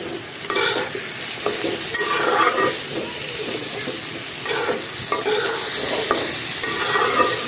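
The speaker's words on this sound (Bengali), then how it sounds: "চাল আর ডালটা সাথে ভালো করে ভেজে নেব" Rice and lentils frying with chopped ginger in a pan, loud steady sizzling under brisk, rhythmic stirring scrapes and occasional metal clinks, close up with no speech.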